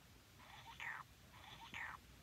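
Two short, faint meows from a hungry cat, about a second apart, in a quiet room.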